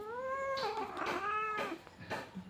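A pet cat gives a drawn-out, wavering meow that rises and falls, followed by shorter softer mews, heard close up and alone at a quiet level.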